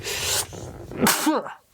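A single sharp human sneeze bursts out close by during a casual podcast chat, with talk before and after it.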